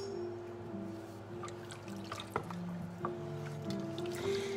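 Cheese sauce thickened with flour is stirred in a pan on the stove for mac and cheese. Faint, wet squishing and soft dripping sounds come up in a few small bursts over a quiet background hum.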